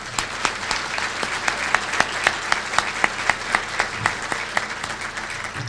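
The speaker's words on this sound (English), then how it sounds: "we ought to give those retailers a round of applause" Applause from an event audience honoring charitable retailers, with a few individual claps standing out sharply and rhythmically above a steady wash of clapping.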